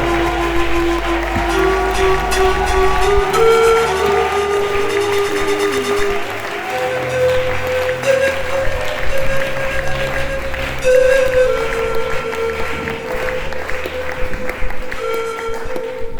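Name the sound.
audience applause and cheering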